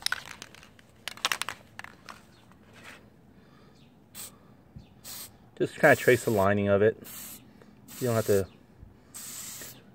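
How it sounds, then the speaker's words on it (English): Several short hissing bursts of copper gasket spray, spaced irregularly, applied during a GY6 180cc scooter engine top-end rebuild, with someone speaking between the sprays. "Use some of this copper spray."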